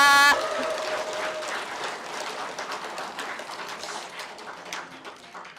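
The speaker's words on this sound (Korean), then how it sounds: "한 번 더 힘찬 박수로 축하와 응원하겠습니다" Congregation applause at a Korean religious service, dense and steady clapping from a large indoor crowd that fades gradually over several seconds.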